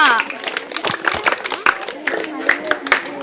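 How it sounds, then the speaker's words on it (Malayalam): Schoolchildren at a lower primary school clapping in a classroom quiz, a quick burst of scattered, uneven hand claps close by with voices mixed in. "ഒരു ക്ലാപ്പ് ചെയ്തേ"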